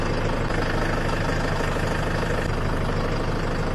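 A farm vehicle used for hauling soybeans and firewood idles in the field, its engine giving a steady, loud, continuous rumble with no change in pace and no voices.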